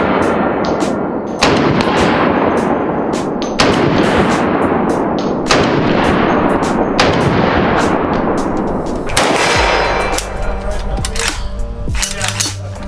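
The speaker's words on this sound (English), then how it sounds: "I've been shooting the Mark 47 Descent" A CMMG Mark 47 rifle fires sharp, loud, booming shots about every two seconds, each with a decaying echo. A faster cluster of cracks comes near the end.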